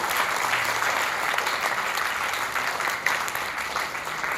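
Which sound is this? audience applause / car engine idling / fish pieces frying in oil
audience applause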